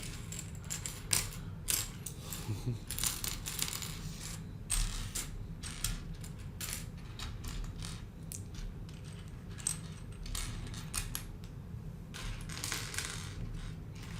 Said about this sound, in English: So these clicking mechanisms are popular in some of the Crater series